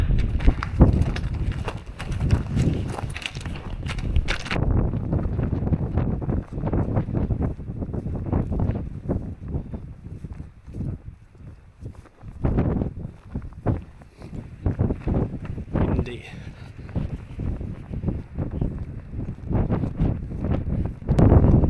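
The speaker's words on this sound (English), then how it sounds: "I can't hear anything with the wind." Strong wind blows across a hillside on the Beacons Way and buffets the microphone in a constant, loud rumble that surges and dips throughout, with no clear talking.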